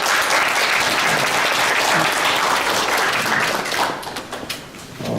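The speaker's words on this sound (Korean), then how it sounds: "존경하는 여러분의 박수로 저희 백인 대표자회의 개회를 선언하겠습니다." Dense, sustained applause from an assembled audience opening a representatives' conference, loud and even for about four seconds before thinning into scattered claps.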